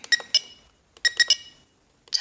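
A timer alarm beeps in short clustered bursts of sharp electronic tones, repeating in groups with brief silent gaps between them, loud and close, during a throttle servo setup.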